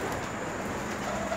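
A large female racing homing pigeon gives brief soft coos close by over a steady background hum.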